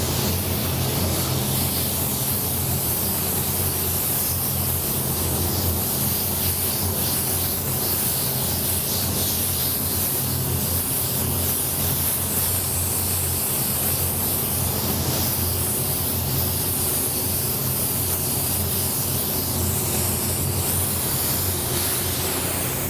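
A spray gun lays down the first paint coat on powder-coated wheels with a continuous, loud, even hiss that holds steady and never lets up. No one speaks.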